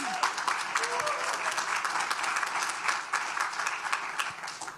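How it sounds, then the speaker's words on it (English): An audience applauds at an adult basic education graduation ceremony, dense steady clapping throughout that stays fairly close and lively. "one more round of applause"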